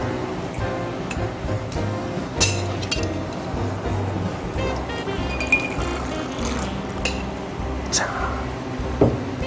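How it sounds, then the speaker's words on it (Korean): Ice being loaded into a chilled cocktail glass and a shaker for a peach liqueur drink, with scattered sharp clinks and clatters over a steady background murmur and soft handling noise. "얼음을 이렇게 담아준 후에 쉐이커에 피치 리큐르를 넣도록 하겠습니다."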